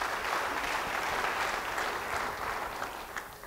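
A church congregation claps steadily in dense, continuous applause for Jesus during a sermon, filling the whole stretch at an even, loud level.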